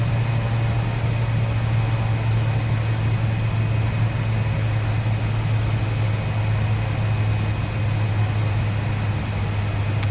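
Steady droning engine and propeller of a DHC-3 Otter in the Milviz add-on for the FSX flight simulator, a loud continuous low hum with a constant tonal whine, unbroken and without talk.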